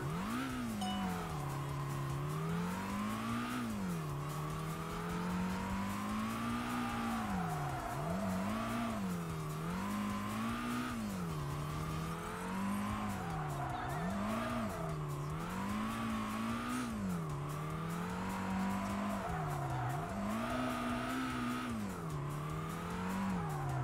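A small car driving a gymkhana course in the PS2 racing game Tokyo Xtreme Racer Drift 2, its engine droning and repeatedly rising and falling in pitch as it revs and lifts, steady and continuous with no talk.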